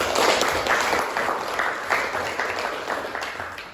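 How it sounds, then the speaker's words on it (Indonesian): A classroom of students applauds a group that has just finished presenting in an economics lesson, a dense, steady patter of many hands clapping at moderate volume that gradually thins toward the end. "Tepuk tangan dulu untuk kelompok 2."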